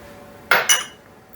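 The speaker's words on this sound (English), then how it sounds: "use a spoon to mix those in before I sieve it" A metal spoon clinks twice against a bowl while mixing baking powder and baking soda into flour for banana muffins, two quick close taps then quiet.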